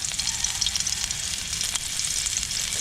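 Onion frying in hot oil gives a steady, close sizzle that holds evenly from start to finish, a dense hiss with faint crackles and no voices over it.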